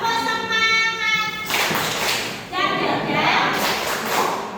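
A classroom of children at a madrasah performs a rhythmic spirit-clapping chant, with loud, steady group claps in patterned bursts under chanting voices.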